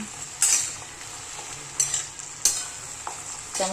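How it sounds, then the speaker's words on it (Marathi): Green chickpea leaves fry in hot oil in a pan, a steady soft sizzle broken by several sharp scraping stirs of a spatula against the metal, close and fairly quiet, with no talking. "असं तेलामध्ये चांगली भाजून घेतली ना"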